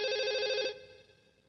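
A telephone bell rings loudly for a moment, then cuts off, leaving a faint fading ring.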